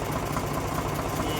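A tractor loader's engine runs steadily nearby with a dense, rough idling rumble that stays even throughout and has no voices over it.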